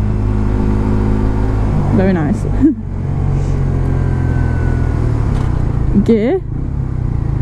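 A Suzuki GSXR125 motorcycle with a standard exhaust rides along, its engine humming steadily up close with a mid-pitched drone, while a person talks over it twice in short bursts.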